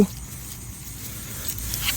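Heavy rain falls at night outdoors where rat traps are set, a steady broadband patter and hiss that continues throughout, with a brief knock at the very start.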